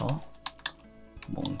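Several quick keystrokes on a computer keyboard, close and fairly quiet, with brief bits of voice at the start and end.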